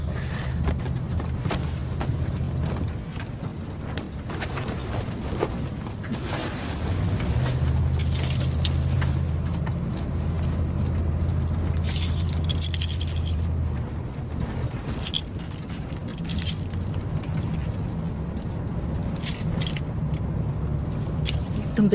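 Keys jangle with scattered metallic clinks and rattles that come and go over a steady low car engine hum.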